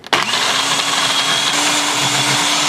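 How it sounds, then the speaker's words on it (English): A blender whirs steadily while blending vegan pesto made with basil, starting abruptly and holding a loud, continuous motor drone with a slight pitch shift midway, with no voices. "And then you blend it."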